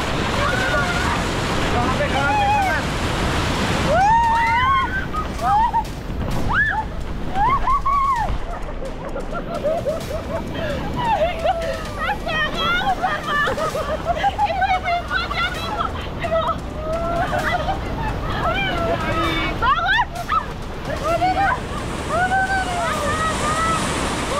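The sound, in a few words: large ocean waves breaking on the shore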